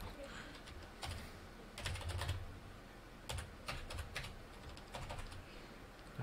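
Keys of a computer keyboard clatter in quick irregular bursts as a password is typed, close and fairly soft with short pauses between runs.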